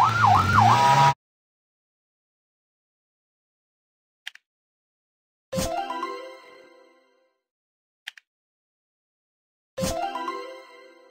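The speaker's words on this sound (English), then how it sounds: "Police car." Short electronic bursts of a police car siren in a kids' car-building video game, a brief wailing tone at the start followed by three separate clipped, sweeping blasts with silence and faint blips between them.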